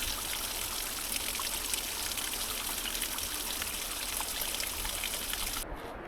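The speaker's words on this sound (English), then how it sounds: "there's a nice waterfall right there." A waterfall seen while traveling in Europe, heard as a steady broadband rush of falling water that stays loud and constant throughout, with no talking.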